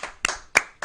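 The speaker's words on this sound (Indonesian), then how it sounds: "Tepuk tangan" A few separate hand claps, three sharp claps spaced apart, close and fairly loud, at a casual gathering in Indonesia rather than full applause.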